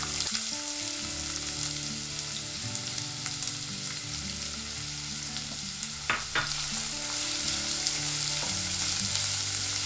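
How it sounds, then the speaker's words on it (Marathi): Three finely chopped medium onions fry in three tablespoons of hot oil, giving a steady, close sizzle broken by a few sharp pops and the scrape of stirring. "हे चांगले आपण फ्राय करून घेऊ"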